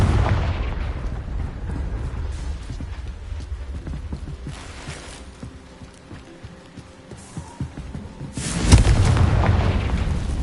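Confringo spell explosions in a Hogwarts video game, with booming blasts over a rumbling battle din and rapid clattering, ending in a large close explosion near the end.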